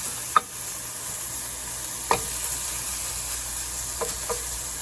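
Bacon frying in a pan gives a soft, steady sizzle, with a few faint clicks or taps over it.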